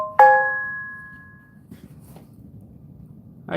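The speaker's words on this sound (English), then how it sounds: "If you hear my phone going off, I'm getting a bunch of texts." A single bright chime from a phone's text message alert rings out once and decays over about a second, with only faint room noise afterward.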